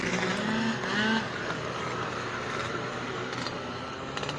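Super scooters racing at the Lydden Hill circuit, a continuous loud engine drone that rises in pitch before settling into a steady roar, with no talking.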